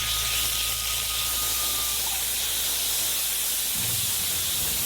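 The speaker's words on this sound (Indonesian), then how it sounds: "Goreng daging babi terlebih dahulu." A steady sizzling hiss of pork frying in hot oil in a wok, with a faint low clatter of stirring near the end.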